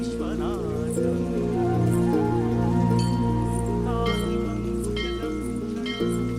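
Rain patters steadily on a surface throughout, a dense hiss of droplets beneath a music score with sustained tones and chiming accents.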